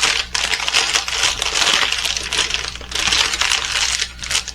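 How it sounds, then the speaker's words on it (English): A plastic bag from a large canvas diamond painting kit crinkles steadily and close up for several seconds, with brief pauses between the rustles and no talking. "Sorry for the crinkle."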